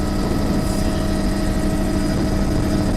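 A helicopter's steady, loud rotor thrum and engine drone fill the clip continuously, close and unbroken.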